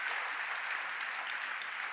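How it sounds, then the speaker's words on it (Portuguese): A church congregation applauds in a brief, steady burst of many hands clapping together, fairly distant and evenly sustained with no voices standing out. "Você pode dar uma salva de palmas ao Senhor Jesus por causa disso."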